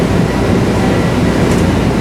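A train approaching on track 2 at a railroad station during a railroad days event, a loud, steady rumble and roar of the passing cars filling the scene without pause, with no voices over it.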